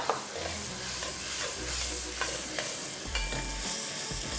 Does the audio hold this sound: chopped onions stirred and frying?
yes